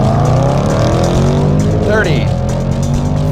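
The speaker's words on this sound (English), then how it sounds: "All you gotta do is floor it and it's a rocket from the get-go." A 2015 Range Rover Sport SVR accelerates hard at full throttle, its loud engine roar climbing steadily in pitch beneath continuous excited talk.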